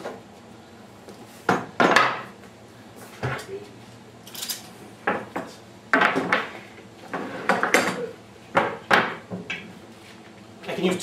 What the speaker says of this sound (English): I should really clear the bench.